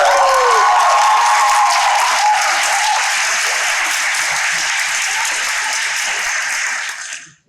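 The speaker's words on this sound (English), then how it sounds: "tear this roof off and clap crazy" A crowd at an adult poetry slam in New Haven claps loudly and continuously, a dense, full roar of applause with brief cheering at the start that fades out at the end.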